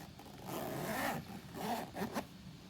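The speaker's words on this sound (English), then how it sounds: "Get some ASMR zipper." A zipper drawn slowly along a Nintendo Switch Lite carrying case in a few close, quiet strokes, with a soft rasping texture and brief pauses between pulls.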